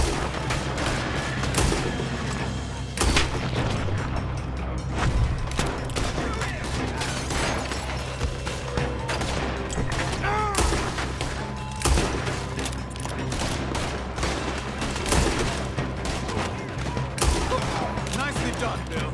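Gunfight in Red Dead Redemption 2: repeated rifle and pistol shots crack in clusters across a dense, busy mix, with game dialogue and background music running underneath throughout.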